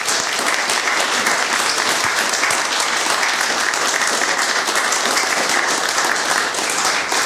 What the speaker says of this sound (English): please give a round of applause to Minister Arifarani